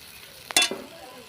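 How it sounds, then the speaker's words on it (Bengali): A spoon stirring masala in a cooking pot, outdoors under a tree: a couple of quick, close scraping sizzles lasting under a second, then quiet. "মশলাটা নেড়ে নিতে হবে"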